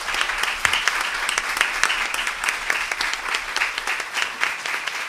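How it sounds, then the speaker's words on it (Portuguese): An audience at a teachers' seminar on the national teaching salary floor applauds, a steady mass of many hands clapping at moderate distance that holds evenly for several seconds. "E eu quero pedir a cada um e a cada um que dê uma salva de palmas para o Túlio Paulino."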